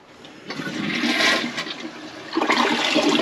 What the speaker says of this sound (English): Just gonna wait and flush it one more time.